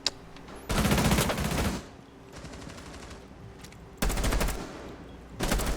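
Automatic gunfire sprayed through a wall in a video game comes in three sustained bursts, loud and close, separated by quieter stretches of game ambience, with no talking.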